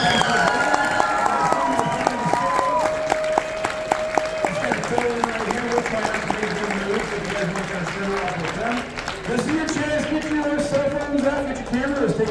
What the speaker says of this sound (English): let's give one more big round of applause for all of our contestants